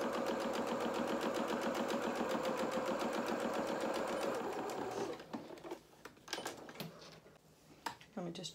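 A sewing machine runs steadily, stitching the seam of a pair of culottes in a fast, even rhythm for about five seconds before stopping, followed by faint handling and shuffling noises.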